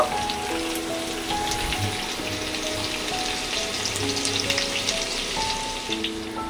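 Vegetables frying in oil for a drumstick, tomato and potato vegetarian curry give a continuous close crackling sizzle, dense and even throughout with faint background tones.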